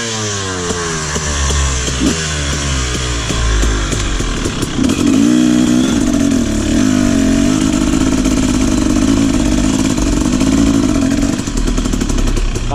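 A motorcycle engine runs loud and close while crossing a river in the rainy season, first chugging at a low idle and then revving higher and holding a steady, strained drone with water and splashing noise around it.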